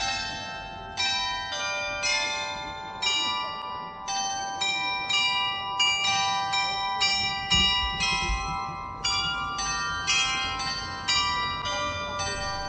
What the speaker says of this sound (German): Dort gibt es ein Glockenspiel, das Bezug nimmt auf Dr. Eisenbart.